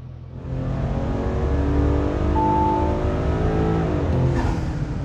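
Audi B9 SQ5 with the 3.0T engine revving hard on a dyno, a loud sustained pull whose harmonic tone climbs steadily before easing off near the end, with no talking.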